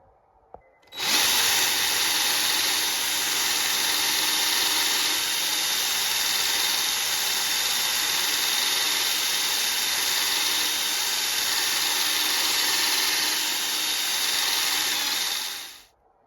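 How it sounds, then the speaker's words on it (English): A power drill with a polishing attachment runs continuously for about fifteen seconds, buffing a part with Brasso on a rag during a radio restoration. The whine is loud, steady and hissy, with no talk over it. "I've got this thing on the end of my drill. I've got some Brasso. I'm going to put it on a rag"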